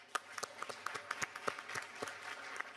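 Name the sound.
audience applause at a forum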